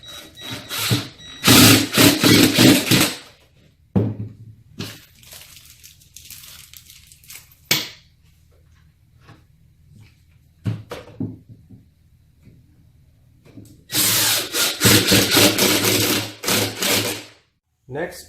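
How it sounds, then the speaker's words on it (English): An impact driver fitted with a Phillips tip drives screws into a foosball table during assembly, giving loud bursts of whirring and rattling impacts separated by quieter gaps with softer handling noises. "I will be securing our playing field using my impact driver fitted with the Phillips head tip."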